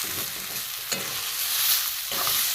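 Hands knead a spiced vegetable mash of beet and carrot with garam masala powder for vegetable chops, giving close, soft squelching and rustling with a couple of sharper wet slaps.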